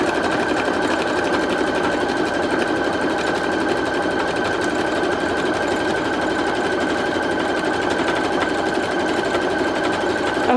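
A Brother Project Runway CE1100PRW sewing machine stitches a fabric swatch in one continuous, loud, even run with a rapid needle rhythm and steady motor hum, no voices.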